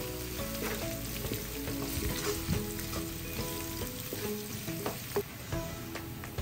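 Chopped ginger sautéing in a pan for a creamy coconut chicken dish, with a steady close sizzle of frying and occasional clinks and scrapes of stirring throughout, no talking.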